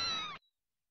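A short cartoonish cat meow from the 1995 SNES racing game Kat's Run: Zen Nihon K Car Senshuken, a single bright tonal cry cut off abruptly, then silence.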